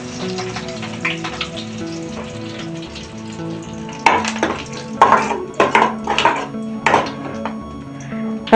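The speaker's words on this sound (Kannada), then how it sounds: "ಸಾಸಿವೆ ಚೆನ್ನಾಗಿ ಸಿಡಿದ ಮೇಲೆ ಇದಕ್ಕೆ ಸ್ವಲ್ಪ ಕರ್ಬೇವಿನ ಸೊಪ್ಪನ್ನ ಸೇರಿಸ್ಕೊತಾ ಇದ್ದೀನಿ." Curry leaves fry in hot oil with popped mustard seeds for a pepper egg masala. A soft sizzle starts things off, then turns into loud, close bursts of crackling and spattering in the second half.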